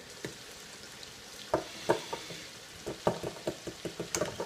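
A spoon stirs water into a sausage chilli casserole, with irregular soft clinks and scrapes against the pot that speed up toward the end, over a faint sizzling hiss.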